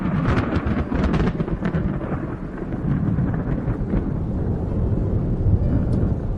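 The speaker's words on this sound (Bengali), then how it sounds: "বাইরে মেঘের গর্জন শুনতে পাচ্ছ?" Low thunder rumbles on and on outside, loud and deep, with a few sharper cracks near the start, heard alone with no voices.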